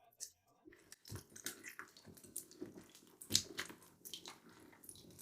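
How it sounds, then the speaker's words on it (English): An eggplant is washed by hand in a bowl of water while a Japanese stir-fried vegetable dish is prepared, giving quiet, intermittent sloshing and splashing close by. "Just fill it with water. Give it a good wash."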